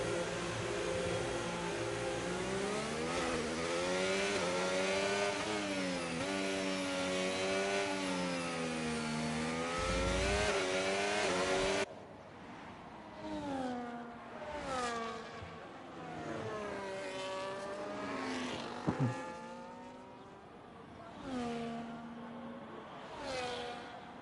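Race cars pulling out of the pits at Jeddah, engines revving up and down in rising and falling whines, first one loud car close by, then several fainter cars passing at a distance.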